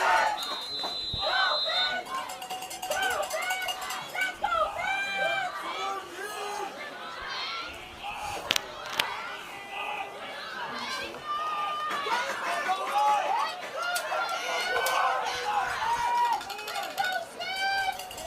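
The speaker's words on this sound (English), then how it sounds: "as you can hear, the crowd starting to get into it good now" Crowd noise and cheering from spectators at a youth U12 football championship game, a continuous lively hubbub with raised voices swelling through the whole stretch, heard from the stands.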